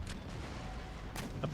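Howitzer artillery fire in the strategy game Empire Total War: a few brief, faint, distant booms within a low battlefield rumble.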